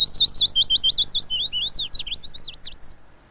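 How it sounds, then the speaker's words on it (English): A willow warbler sings a clear, sweet phrase of descending, rapidly repeated whistled notes, close and alone, gradually fading toward the end of the few-second song. "Only in larger gardens are you likely to hear the song of willow warblers"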